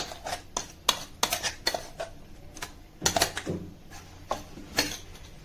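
Corn kernels pounded coarsely in a mortar for crispy corn garelu, giving a run of sharp, uneven thuds and clinks in an irregular rhythm, close and fairly loud, with no talking.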